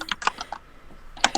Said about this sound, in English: sound of your gaming keyboard